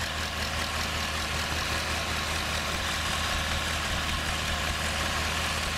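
Steady low idle of a tractor engine in Farming Simulator 2013, a continuous rumbling drone that holds even and loud throughout with no talk over it.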